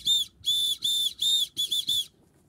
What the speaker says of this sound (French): et bien le sifflet. Vous faites un SOS